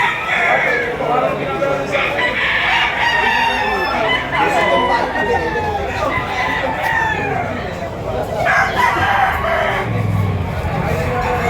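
Rooster crowing amid a busy Batangas gamefowl market, with a constant crowd murmur and talking voices throughout; crows rise over the steady din at a moderate distance.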